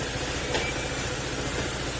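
A Honda ADV160 scooter engine runs steadily at idle, a continuous mid-low mechanical hum with light vibration, close to the microphone and alone, with a bearing fault noted on the machine.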